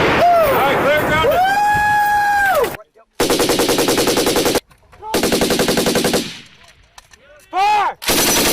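US Army M240 and M249 machine guns fire long automatic bursts outdoors, loud and close, separated by short pauses, with shouted commands over the range between bursts.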